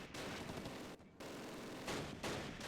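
Gunfire crackles in the World War II strategy game Close Combat: The Longest Day at Pegasus Bridge, a dense, continuous rattle of distant-sounding shots with brief gaps.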